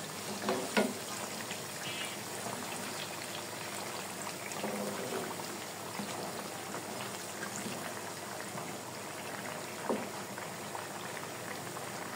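Pitha frying slowly in oil over low heat, a steady soft bubbling sizzle throughout with a few faint clicks and stirs, no voices.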